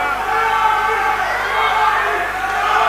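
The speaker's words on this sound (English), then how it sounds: "Now the crowd is vocally showing their displeasure of lack of action." A wrestling arena crowd booing and grumbling in displeasure, a broad continuous roar of voices sustained throughout, loud and even with no distinct calls.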